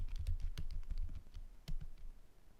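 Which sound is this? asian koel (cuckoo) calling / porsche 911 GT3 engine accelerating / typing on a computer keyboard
typing on a computer keyboard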